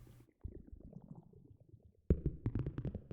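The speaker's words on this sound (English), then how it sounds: "It sounds like we're underwater or something or other." Low underwater bubbling synthesized in the Vital synthesizer burbles in irregular pops, starting soft, then growing louder and denser after a sudden jump.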